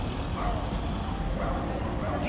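A street dog in Camara de Lobos, Madeira, gives repeated short barks and yips at a fairly regular pace, moderately close over a low outdoor background.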